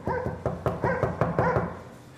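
Several dogs bark in a steady series of about six sharp, fairly close barks over roughly two seconds, tailing off into quiet at the end.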